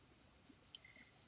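A computer mouse on a workstation clicks three times in quick succession, sharp and close against a quiet background.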